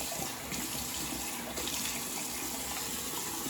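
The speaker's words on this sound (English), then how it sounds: "I'll go ahead and rinse off that alum." Tap water runs steadily over hands in a bathroom sink, rinsing off alum, a continuous close hiss and splash that holds for a few seconds with no talking.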